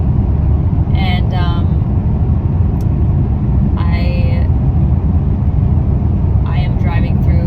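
A car driving through a military zone near the Mexican border, a constant loud low road and engine rumble filling the cabin while a person talks quietly over it.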